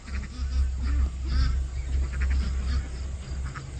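Ducks on a small farm quack repeatedly in loud, close bursts, several birds calling over one another in an irregular chatter with a low background hum.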